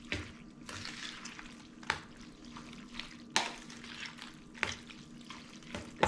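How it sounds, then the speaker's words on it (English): Water and taco seasonings stirred together in a pan, a soft liquid swish under a low hum, punctuated by a few sharp spoon clinks against the pan's side. "I'm just gonna stir this around really well. Get all of those seasonings mixed in."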